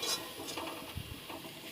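Onion and spices frying in a pan for an egg tarka while being stirred; a quiet, brief sizzle with soft scraping stirs and light pan clatter.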